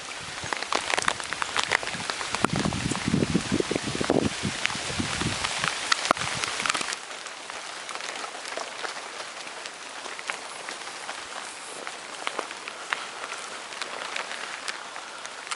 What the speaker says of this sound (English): Withlacoochee River on a rainy day.